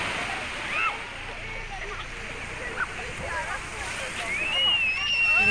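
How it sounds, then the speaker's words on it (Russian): Waves wash continuously on a crowded sea beach, a steady surf hiss with occasional splashes, while distant voices of many people carry faintly in the background. "переполнено море."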